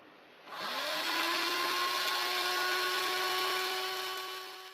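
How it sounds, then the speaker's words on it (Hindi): A blender jug whirs steadily as it mixes chopped mango for a mango dessert, starting abruptly with a rising motor whine, then a loud continuous hum with a steady pitch that eases slightly toward the end. "मैंने इसको जग में डाल के मिक्स कर लिया।"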